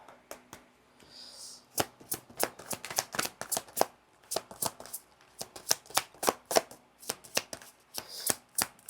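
Close, brisk shuffling of a tarot deck: a rapid, uneven flurry of crisp card slaps and riffles that runs without pause and carries no speech.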